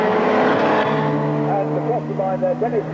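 A 1990 BTCC touring race car at Oulton Park rounding the last corner to finish the race, its engine note droning loudly under a commentator's voice, with a wavering tone as it passes.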